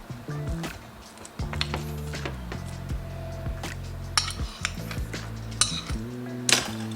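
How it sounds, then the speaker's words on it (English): Overripe bananas mashed with a fork in a bowl, repeated clinking and tapping of metal on the bowl in an irregular rhythm, close and fairly loud over a faint background hum. "We need to add our bananas, but first we are going to mash them."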